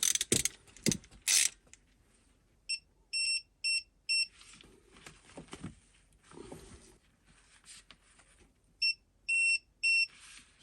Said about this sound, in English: we'll torque it down, give it a tug, and then torque it down yourself some more